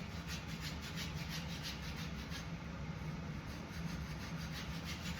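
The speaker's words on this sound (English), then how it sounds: "And I move to my plain belt just to get the flakes off." A blade rubs steadily against a plain sharpening belt to remove flakes, giving a continuous faint grinding hiss with a gentle pulsing rhythm and no talk.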